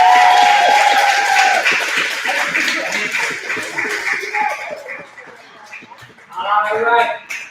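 A crowd applauds at a martial arts belt presentation, dense clapping mixed with cheering voices, loud and close at first, thinning midway, then swelling again near the end.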